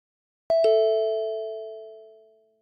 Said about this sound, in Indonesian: Bel pintu berbunyi dengan nyaring.